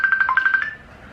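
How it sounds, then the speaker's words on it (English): Phone ringtone for an incoming call, a quick run of bright repeated electronic chirps lasting under a second, then fading to quiet, close and clear. "ooh, I got a phone call"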